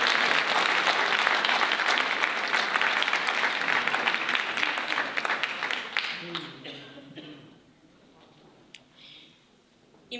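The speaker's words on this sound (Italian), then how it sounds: "Un applauso alle compagnie che sono state." Sustained audience applause for theatre companies at a festival, loud and dense at first, then thinning out and fading to scattered claps after about six seconds.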